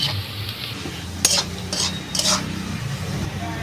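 Onions frying in a pan until reddish brown for a chicken curry, with a steady low sizzle under a few sharp spoon-stirring scrapes and clinks against the pan, close and moderately loud.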